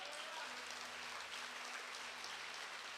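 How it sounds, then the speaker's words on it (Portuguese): A church congregation claps at the pastor's urging, a faint, steady wash of applause without a break. "Aplaude direito aí."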